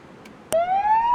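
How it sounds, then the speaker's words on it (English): An emergency vehicle siren being tested with no lights, starting abruptly after a brief click and rising steadily in a loud, close wail. "There's no lights for that one, but they just have the sirens."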